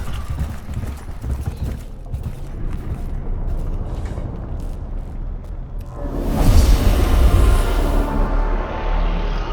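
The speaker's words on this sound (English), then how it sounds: "a tile underfoot clicks. The sound of whirring energy builds up around your troops." In the Warhammer 40k Mechanicus video game, faint clicks sound underfoot, then a whirring surge of energy builds from about six seconds into a loud, rumbling, sustained roar. No one speaks.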